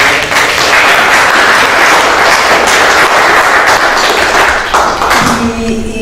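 Loud, sustained applause from a live audience at a cultural song performance, dense steady clapping that fills the whole stretch and begins to thin out near the end.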